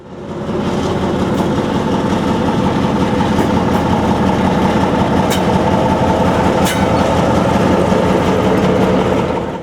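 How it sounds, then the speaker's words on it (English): ALCO Century 630 locomotive number 103 hauls a passenger train south on a rare-mileage run, a steady heavy rumble of engine and rolling cars held at constant loudness throughout, with a couple of faint high squeals. "103 pulls the train south on what can be considered a rare mileage trip by this date"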